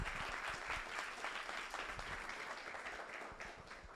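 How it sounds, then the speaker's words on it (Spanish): An audience at a lecture event claps in welcome, a dense and steady applause throughout, heard from within the room at moderate loudness. "Demos un fuerte aplauso de bienvenida a Jorge Quevedo Mendoza."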